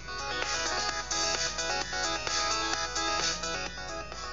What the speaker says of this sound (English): So this is the one we just created.